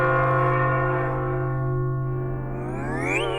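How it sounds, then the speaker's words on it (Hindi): A bell rings with one sustained, loud humming tone that slowly fades and then bends upward near the end, with no talking. "बज गई घंटी।"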